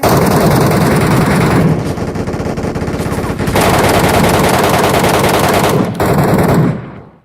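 Rapid automatic gunfire in the video game Metro Royale, loud and sustained bursts with brief gaps, continuing for most of the stretch before cutting off.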